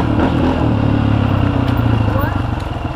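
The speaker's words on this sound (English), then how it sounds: "He's riding my XR80 right now." A Honda XR80 dirt bike rides through open fields, giving a loud, steady engine drone throughout with faint clatter and what may be a voice mixed in.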